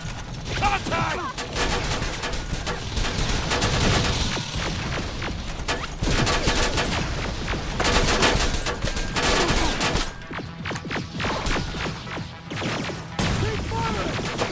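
Dense, continuous gunfire rolls through a Terminator Resistance battle, with rapid machine-gun bursts, crashes and impacts packed together loudly from start to finish, while shouted voices cut in now and then.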